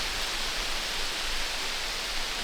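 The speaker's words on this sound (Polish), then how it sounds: "Chyba jest ostatni deszcz." Steady rain falls outdoors during the deer rut season, a constant, even hiss of close, moderate drizzle with no breaks or voices.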